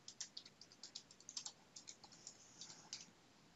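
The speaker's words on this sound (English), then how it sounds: "and type a password" Rapid, irregular clicks of a computer keyboard as a password is typed on a Windows lock screen, quiet and close, with no voices.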